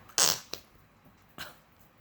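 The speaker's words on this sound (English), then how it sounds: "they sound like weird farts" Flarp noise putty squeezed in its container lets out short, squelchy fart-like noises: one loud burst, a quick small pop, then a softer second squelch, all close and alone.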